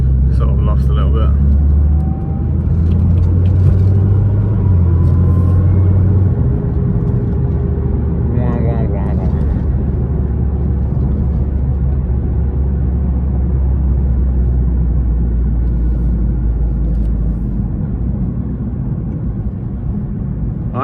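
A Nissan GT-R R35 engine while driving, a steady low rumble heard from inside the car throughout, with someone talking over it.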